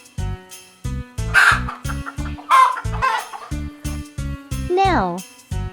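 Chickens cluck and squawk in several short bursts, ending in a longer rising call, over a steady, rhythmic children's music track.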